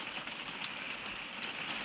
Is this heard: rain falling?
yes